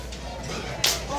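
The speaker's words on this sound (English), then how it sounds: "Oh, and a clap to the cerebrum of Chico Adams" A wrestling strike in a professional wrestling match lands as a single sharp clap to the head, one crisp smack standing out briefly over low arena background.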